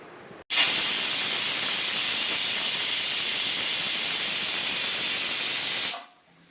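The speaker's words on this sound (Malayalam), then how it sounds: "എന്നിട്ട് നമുക്ക് ഒരു വിസിൽ വരുന്നവരെ വെയിറ്റ് ചെയ്യാം." A pressure cooker's steam whistle shrieks loud and steady for about five seconds while chicken biryani cooks, a broad hissing blast that cuts in abruptly and fades out at the end.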